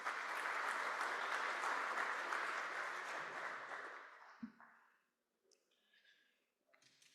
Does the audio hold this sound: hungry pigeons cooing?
no